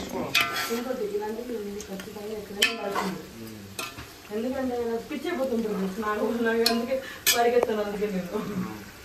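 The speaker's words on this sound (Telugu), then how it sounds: "ఇప్పుడు మటన్ వేసి మంచి కలుపుకున్నాం కదండి." A spoon stirs mutton through its marinade in a pot for biryani, scraping and sloshing steadily close by, with soft sizzling and brief clinks against the metal.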